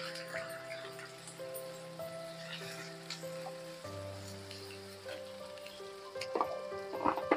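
Ginger garlic paste and onion fry in a pan, giving a soft, steady sizzle with faint crackles and a few stirring clinks near the end.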